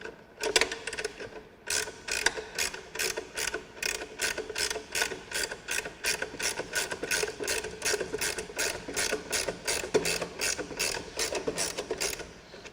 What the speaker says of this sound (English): I'm going to use the ratcheting side